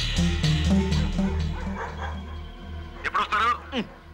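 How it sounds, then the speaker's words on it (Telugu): Several dogs bark and yip at one another in close, rapid bursts early on, with sharper yelps near the end, layered over a loud music bed in a Telugu comedy film scene. "ఇటు కుక్కలు ఒకదానికోటి పోటీ పడి అరుస్తున్నాయి"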